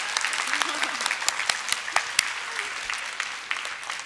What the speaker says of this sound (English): Students, let's give your parents a round of applause.